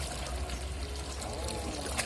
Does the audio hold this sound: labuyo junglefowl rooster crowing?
no